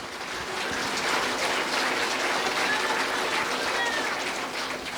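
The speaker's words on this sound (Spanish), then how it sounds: "Fuerte aplausos a Cristo Jesús." A congregation applauds Jesus Christ during a church service, a steady wash of clapping that holds evenly for several seconds.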